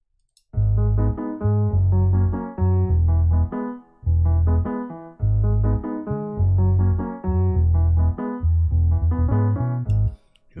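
Afrobeats chords and melody built in FL Studio, with punchy low bass notes under bright synth chords in a bouncy, syncopated loop, clean and loud from start to finish.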